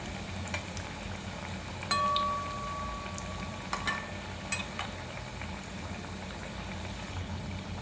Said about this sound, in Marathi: मीडियम फ्लेमवर तळायच्या